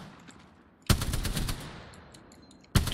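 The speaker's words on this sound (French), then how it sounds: "Je crois qu'il prend des tirs." Bursts of automatic gunfire in the Apex Legends battle royale game, two sharp rapid volleys about two seconds apart, the first trailing off into a fading rattle, fairly close and clear.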